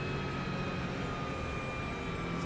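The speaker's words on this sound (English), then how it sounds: "The turbo on this car is super loud." A race car's loud turbo whine during testing at the Daytona 24 Hours, a steady high-pitched scream over a dense, continuous engine roar heard close from inside the car, unbroken for the whole stretch.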